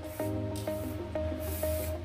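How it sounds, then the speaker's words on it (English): Spray paint can hisses steadily while spraying a ring around a bowl, a continuous close airy spray with brief rattling pulses and no talk. "the first thing you want to do is spray a ring around that bowl."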